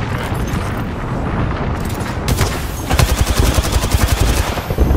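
Rapid bursts of gunfire in a battle royale game as the player's character, Caustic, comes under fire, a dense volley building louder and more rapid in the second half over a continuous noisy background.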